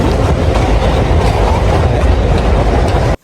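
A train rolls past close by near Kallady bridge by the coast at Pasikudah, a loud continuous rumble of wagons and wheels with a steady clatter throughout, cutting off abruptly at the end.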